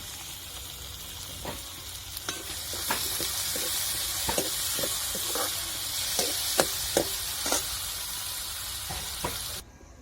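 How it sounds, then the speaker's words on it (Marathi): Onion and tomato masala sizzles steadily in hot oil in a pan for bitter gourd curry, with scattered scrapes and taps of a spatula stirring throughout before the sound cuts off near the end. "आता सगळं परतून घ्यायचं चांगलं"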